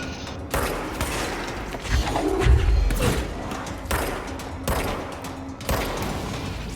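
Sniper gunfire rings out in the video game Control as a series of sharp, loud shots about once a second, each with a short echoing tail over a low mechanical hum, with no voices.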